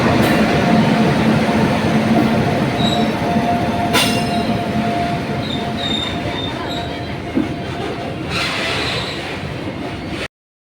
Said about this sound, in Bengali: ওই একটা ট্রেন আসছে মালগাড়ি আসছে